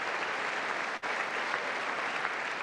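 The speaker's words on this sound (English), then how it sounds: "Everyone claps but the Democrats." A large crowd claps steadily in the chamber at a State of the Union address, a continuous, even wash of applause with a brief dip partway through.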